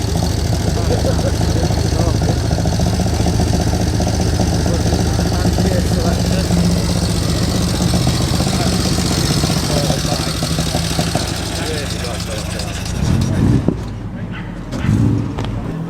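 At a car meet, a motorcycle engine idles loudly and steadily close by, a continuous low rumble with voices talking over it, easing slightly in the final seconds.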